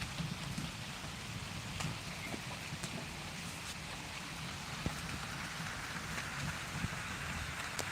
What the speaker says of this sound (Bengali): দেখতে পাচ্ছ সুন্দর একটা বৃষ্টির মাঝে লাইভটা অন করেছি তোমাদের জন্যে